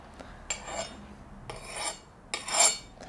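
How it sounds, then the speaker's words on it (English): A metal file skates across a hardened steel knife blade, giving three separate raspy scraping strokes with short pauses between them. The strokes are close and moderately loud, and no one speaks. "we're now going to run a file over it to confirm that it is hard"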